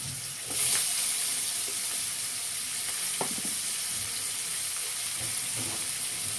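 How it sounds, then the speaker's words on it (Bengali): Chopped onions fry in a pan for a chicken stew, a steady close sizzle with a few soft clinks and stirring sounds over it, no talking. "এবারে এর মধ্যে ফার্স্ট আমি দিয়ে দেবো কিছুটা পেঁয়াজ, কুচনো পেঁয়াজ।"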